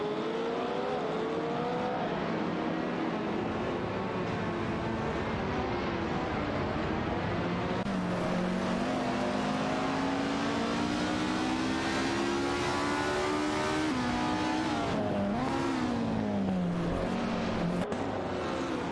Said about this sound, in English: Automobile dashing away.